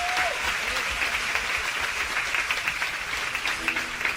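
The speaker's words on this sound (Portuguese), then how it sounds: "Pode aplaudir ao Senhor." A church congregation applauds during a testimony service, a dense, steady wash of clapping from a large crowd with some voices mixed in.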